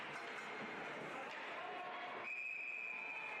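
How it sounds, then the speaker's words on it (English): A referee's whistle blows at a women's ice hockey game during a power play, a sustained shrill tone entering partway through over steady arena noise and commentary. "on this power play as we get a whistle"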